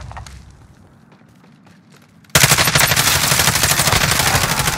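Automatic gunfire from a military shooter game bursts in suddenly after a quiet stretch of faint footsteps, a loud, dense, continuous rattle of rapid shots close by.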